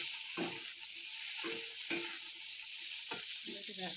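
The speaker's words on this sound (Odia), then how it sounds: "ଟିକେ କଲରାକୁ ଭାଜିଦେବି" Bitter gourd frying in a pan, a steady sizzle broken by several brief stirring scrapes and clatters at irregular intervals, with no voices.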